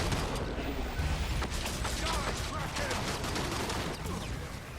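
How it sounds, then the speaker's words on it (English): Mortar barrage in the video game Evolve: a dense, continuous rumble of rapid explosive blasts and gunfire-like bursts, steady and loud throughout with little letup. "Going to try and rock him with that mortar barrage"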